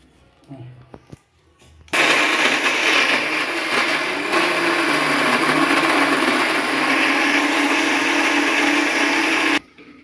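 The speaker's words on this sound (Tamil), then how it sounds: "இதுக்கு தேவையான வெள்ளத்தையும் நான் வந்து இந்த அரிசி மாவு கூட சேர்த்து அரைச்சிடுறேன்" Kitchen mixer grinding jaggery with rice flour, starting abruptly with a loud, steady whir that runs for about eight seconds, then cuts off sharply; brief handling noises come before it.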